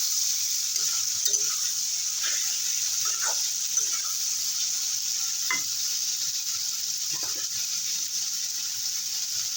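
Bitter gourd fries in oil with dried red chillies, a constant soft sizzle under a few scraping stirs of a spatula against the pan.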